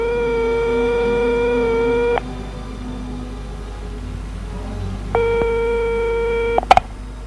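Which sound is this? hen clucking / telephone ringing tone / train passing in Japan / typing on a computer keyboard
telephone ringing tone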